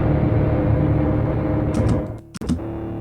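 Layered sound design in Kontakt mixing burp, tambourine, hand drum, whistle and pluck samples, forming a dense, grimy pitched drone with scattered clicky hits, ending in a brief dropout and a few sharp taps.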